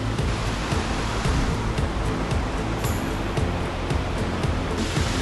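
Elabana Falls, a rainforest waterfall, pours in a constant broadband rush, steady and fairly close with no talk.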